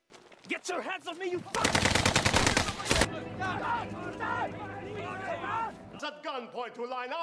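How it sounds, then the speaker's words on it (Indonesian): Rapid automatic gunfire rings out in a film scene: one dense burst of machine-gun shots lasting about a second and a half, surrounded by voices talking over background sound. "beberapa orang yang bandel langsung ditembak dan dibantai tepat di depan pasukan dan Antonio"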